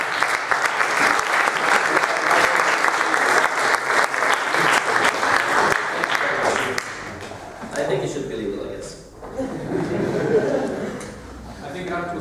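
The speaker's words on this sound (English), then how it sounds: "Can we get a round of applause?" A student liberty conference audience bursts into loud, dense applause that fills the room for several seconds, then fades as a voice begins talking.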